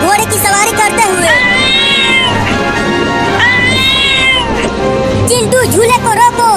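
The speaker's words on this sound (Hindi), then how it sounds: "ये बिल्ली इतना बोल क्यों रही है?" A cartoon cat meowing repeatedly, loud drawn-out wails rising and falling close up, with several meows in a row over a busy animated soundtrack.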